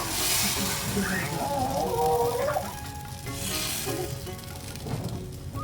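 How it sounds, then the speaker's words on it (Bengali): Wheat flour batter sizzles and fries on a low-to-medium flame in a pan, a steady crackling hiss with brief stirring scrapes and no voices. "তো এবার আমি এক হাতা বেটা নিয়ে নিচ্ছি এইভাবে দিয়ে দেব"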